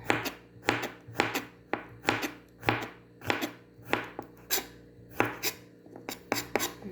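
A knife slices garlic cloves rhythmically on a cutting board, about two sharp taps per second, close and steady with no voices.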